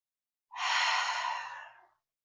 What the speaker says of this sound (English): Deep breath out through our mouth